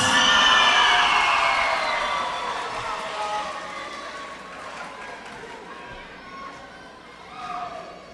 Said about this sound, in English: let's have a big round of applause for our next poet